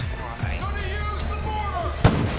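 In Far Cry New Dawn, one sharp, booming rocket launcher blast erupts near the end amid game background noise, with a voice talking over the action.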